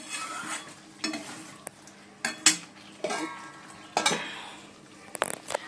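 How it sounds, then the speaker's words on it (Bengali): Chicken braising in a pan, with a utensil scraping and clinking against the metal in irregular strokes over a soft sizzle, close up and without talk. "চিকেনটা এখন কষানো হচ্ছে"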